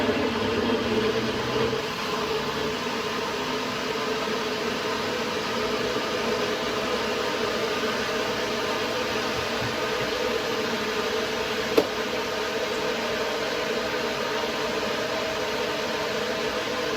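A blender whirs steadily and loudly for a long stretch, a constant motorized drone with a faint rattle and no pauses.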